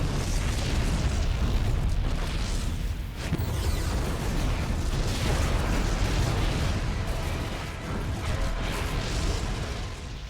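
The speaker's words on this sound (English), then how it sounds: "The explosions have stopped." Loud, continuous explosions roar aboard a Protoss ship in a StarCraft II: Heart of the Swarm cinematic, with dense rumbling booms and bursts running the full length without any pause.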